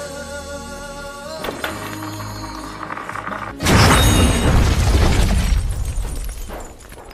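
Restaurant blown up in a film, a sudden loud boom that hits over a musical score, followed by a rolling rumble and shattering debris that slowly die away.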